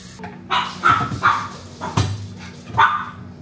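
A dog barks close by, five or so sharp barks in an uneven rhythm with short gaps between them.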